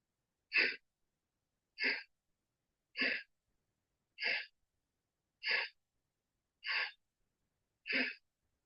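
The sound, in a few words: deep breathing in and out during yoga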